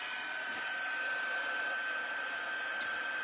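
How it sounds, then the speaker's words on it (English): An embossing heat gun on its hotter second setting blows a steady, faint whooshing hiss with a thin whine, unbroken for several seconds, close by with no one talking. "So I have my embossing gun,"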